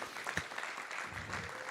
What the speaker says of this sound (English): How about a round of applause for Marion?